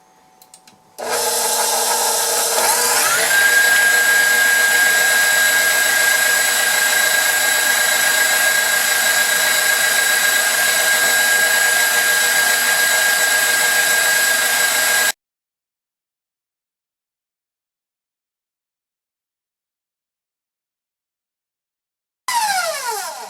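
An electric mixer whips meringue on high speed while sugar is added, giving a loud, steady whirring hum that runs for about fourteen seconds, then stops, with a brief restart near the end.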